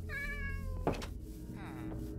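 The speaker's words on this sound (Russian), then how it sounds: "Я слышу мяу." A cat meows once, close and fairly loud, in a drawn-out tonal call, followed by a soft thump and a brief voice over steady background noise.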